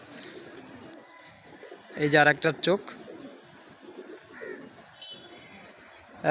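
White Golden pigeon squabs give soft coos and bird calls close by, while someone speaks briefly in the middle over them.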